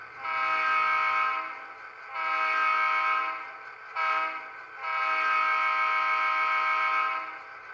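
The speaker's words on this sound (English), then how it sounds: "F12 is when you're coming across a railroad crossing" Horn of a Walther's Mainline NW2 model locomotive sounds a railroad crossing sequence: two long blasts, a short one, then a final long blast, loud and close with a steady multi-tone chord.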